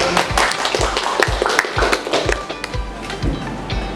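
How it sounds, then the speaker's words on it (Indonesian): Students in a computer lab classroom applaud a classmate, a short scattered burst of hand clapping at close range with no speech over it. "Kita berikan aplaus untuk Henry."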